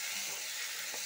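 Onion, ginger and garlic sizzle in a hot pan with oil while goose meat cooks, giving a steady, even hiss that fills the whole stretch with no voices.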